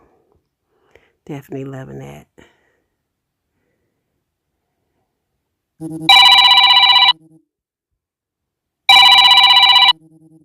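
A mobile phone ringtone sounds in two loud, bright, tonal bursts about a second long each, separated by a short gap, after a brief stretch of someone talking.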